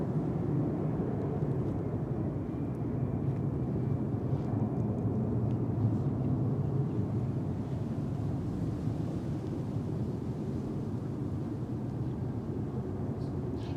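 Boeing 737 MAX 8-200 registered EI-IJD, arriving from Milan as flight 6819, rolls off runway 23 at Manchester Airport, a steady broad engine roar that stays fairly loud and constant throughout with no voices.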